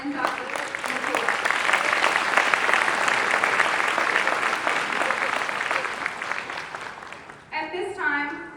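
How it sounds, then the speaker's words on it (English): A graduation ceremony audience gives sustained, even applause that fills most of the moment, then fades as a voice begins speaking near the end. "One more round of applause for Abina and Dr."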